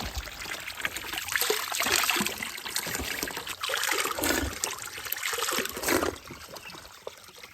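Drinking water flowing down from Kodachadri hill, a steady close trickling stream that runs continuously, with small splashing surges and no talk.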